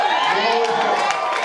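An audience at a spoken-word poetry night cheers and applauds in a brief burst of crowd noise, while a performer's voice carries over it.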